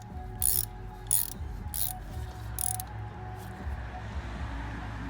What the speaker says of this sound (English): you can go ahead and start ratcheting it down on it.